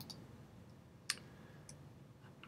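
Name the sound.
computer mouse click on OK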